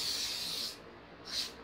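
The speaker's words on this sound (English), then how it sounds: "This one is from Simco Swift Power Setting Spray, and I am quickly going to spritz it on my hair." Two quick spritzes of Simco Swift Power setting spray onto hair, a longer hissing burst followed by a short second puff, close and soft with no voices.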